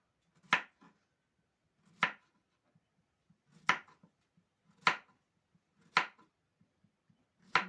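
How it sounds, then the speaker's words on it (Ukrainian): A kitchen knife slices zucchini into rounds about a centimetre thick, with six crisp chops at a steady, unhurried pace, close up, with no talking. "Нарізаю кабачки кружочками десь по сантиметру."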